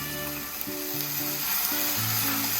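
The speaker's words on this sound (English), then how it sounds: "And now we will be adding our cabbage." Cabbage goes into a hot pan during salad preparation and sizzles steadily at close range, a continuous frying hiss running under soft tonal background music.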